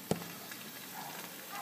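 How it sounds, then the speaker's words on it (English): Diced bacon and pasta cooking for carbonara give a soft, steady sizzle at low level, with a brief clatter near the start and no talk. "you can see the bacon dices are cooking smoothly"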